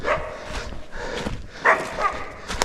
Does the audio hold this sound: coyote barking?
yes